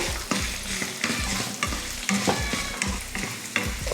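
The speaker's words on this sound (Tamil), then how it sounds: "நெல்லிக்காய் போட்டு ஒரு 2 நிமிஷத்துக்கு இந்த மாதிரி வதக்குனிங்கன்னா நல்லா வதங்கி வந்துடும்" Chopped gooseberries sautéed with dried red chillies and garlic in a pan give a continuous close sizzle, broken by repeated rhythmic scrapes of a spatula stirring, with no voices.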